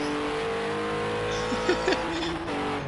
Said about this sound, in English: You think someone would actually fall asleep to just listening to engine noises?